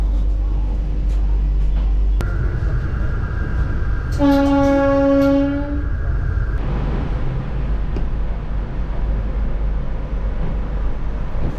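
Inside the new Vande Bharat 22309 train, a steady rumble of running carriages carries a long, clear horn blast partway through.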